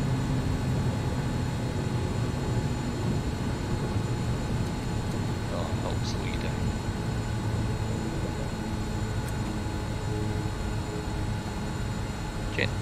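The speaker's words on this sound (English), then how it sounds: "And you can bring the prop into beta." Kodiak 100 turboprop on landing rollout with the propeller in beta, a steady loud broadband roar and hum from inside the cockpit, continuous throughout with no break.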